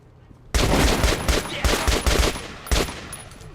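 Rapid bursts of gunfire in the video game Metro Last Light crack out in quick volleys, loud and close, with brief pauses between strings of shots.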